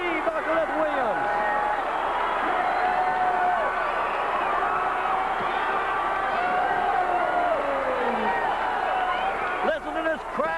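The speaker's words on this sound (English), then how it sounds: "Listen to this crowd go crazy as the Guerrero brothers have won the Mexican Bandalero match." Jam-packed Houston wrestling arena crowd roaring and cheering continuously after the Guerrero brothers win a Mexican Bandalero tag match, a dense loud wall of voices and whoops throughout, with a commentator's voice over it.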